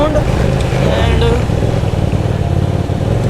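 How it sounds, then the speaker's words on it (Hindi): A Hyosung GT250R motorcycle's exhaust roars continuously as it accelerates in second gear, a loud close engine rumble with a rider talking over it. "तो सेकेंड गियर में मैंने जैसे उठाई बाइक को थोड़ी सी, एंड बहुत ही ज़्यादा लाउडर है इसकी साउंड।"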